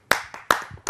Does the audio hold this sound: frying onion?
no